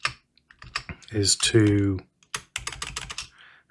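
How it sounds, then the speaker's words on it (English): Arrow keys on a computer keyboard tap out a run of quick, light clicks while a person talks over them. "use the arrow keys on your keyboard, or manually move them with your mouse"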